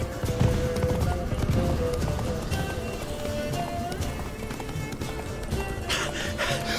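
Roach, a horse in The Witcher 3, gallops with rapid rhythmic hoofbeats that carry on throughout, mixed with game music and ambient sound, while a voice speaks over it.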